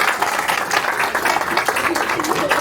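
An event audience claps to welcome a member of parliament from Diu. The applause is dense and continuous throughout, with voices mixed in.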